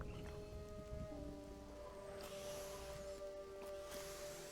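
Steady rain from a rain event in the video game Mind Over Magic, a constant wash of falling drops with sustained game music tones layered over it.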